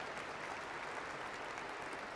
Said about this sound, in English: We love spontaneous applause.